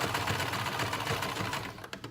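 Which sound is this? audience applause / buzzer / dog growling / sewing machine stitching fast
sewing machine stitching fast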